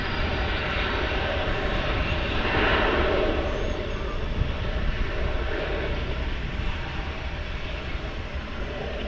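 An American Airlines airliner, flight 2019 bound for San Francisco, rumbles steadily at Dallas/Fort Worth International Airport, a broad continuous engine roar at moderate distance with no voices over it.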